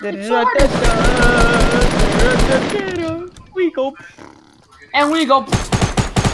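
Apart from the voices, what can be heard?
gunfire in Fortnite video game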